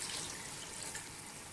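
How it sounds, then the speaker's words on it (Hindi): Water poured from a glass into a pot of aloo matar pulao with tomatoes and potatoes, a soft continuous splashing trickle close by, ending with a small clatter. "इस टाइम पे आधा ग्लास पानी डाल दें"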